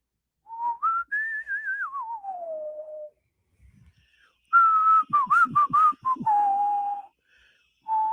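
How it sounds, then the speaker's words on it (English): A man whistles a tune solo: a long rising and falling phrase, a pause, then a quicker run of short notes and a held tone, clear and close with no talk. "Can you whistle? Oh, I can whistle."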